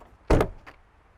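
Frameless door of an Audi S5 four-door coupe closing with one sharp solid thud, followed by a faint secondary latch click, close and alone.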